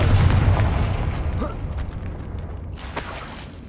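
A Confringo fire-blast spell in Hogwarts Legacy bursts with a loud, close boom that rumbles and fades over a few seconds, with a short crackle near the end.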